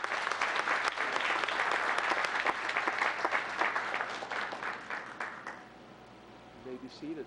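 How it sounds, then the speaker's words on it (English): A big round of applause for award winners at a town council meeting: a dense, steady crowd of clapping for several seconds that gradually fades out, followed by a brief murmur of voices. "another big round of applause for all of our winners."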